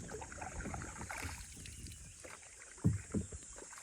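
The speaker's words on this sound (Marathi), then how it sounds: "वला मारायला चालू केलाय." Small wooden rowboat being rowed at sea, with faint oar splashes and water lapping, two sharper strokes near the end, and light wind in the background; quiet and close, no talk.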